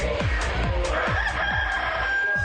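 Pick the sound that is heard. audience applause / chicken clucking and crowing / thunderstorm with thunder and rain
chicken clucking and crowing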